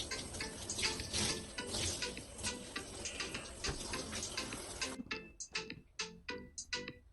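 Running water rinses relaxer out of hair at home, a steady broad wash for about five seconds, then cut into short separate splashes and drips near the sink.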